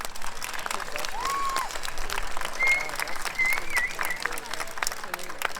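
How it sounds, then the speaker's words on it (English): Applause from a school concert audience at a beginning band performance, a dense, steady clatter of many hands clapping throughout, with some voices mixed in. "give yourselves a round of applause, please"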